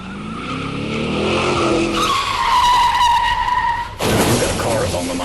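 Tires squeal and skid loudly in the surreal video game Johnny Is Missing, a long rising screech that cuts off abruptly before a rougher burst of skidding noise.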